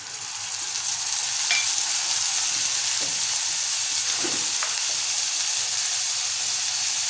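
Finely chopped tomato hits softened onion in a hot pan and sizzles in a steady hiss, with a few light clinks and scrapes of stirring.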